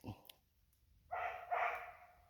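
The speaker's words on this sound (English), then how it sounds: "And you heard Panda barking?" A dog barks twice from a short distance, two loud bursts about half a second apart, after a brief faint yip at the start.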